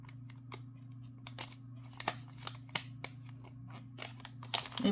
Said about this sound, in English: Let me get my scissors.